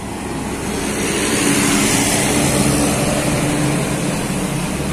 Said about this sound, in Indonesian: Melintas ini unit bus Patriot.